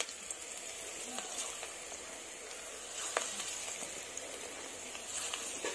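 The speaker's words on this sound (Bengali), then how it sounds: "এই পকোড়াগুলো আমি একই রকম ভাবে লাল লাল করে ভেজে তুলে নেব" Coriander leaf pakoras deep fry in hot oil, giving a soft, steady bubbling sizzle with scattered small pops, fairly faint and heard close without talk.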